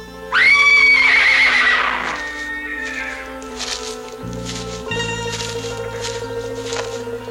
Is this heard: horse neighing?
yes